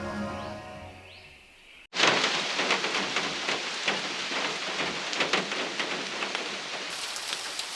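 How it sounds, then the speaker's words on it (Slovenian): Heavy rain with hail suddenly bursts in after a brief quiet stretch, pouring steadily with dense pattering and occasional harder hits, loud and close, in the Snežnik area of Slovenia. "je snežniške kraje priletela nevihta, in to s točo"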